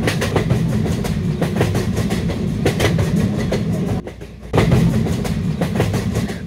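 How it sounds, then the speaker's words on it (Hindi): A Shatabdi passenger train in Indian Train Simulator rolls over a track switch near Surat station, its wheels beating a loud, steady clickety-clack that briefly drops away before resuming at full strength. "कितने प्यारे तरीके से ट्रैक चेंज हुआ है दोस्तों"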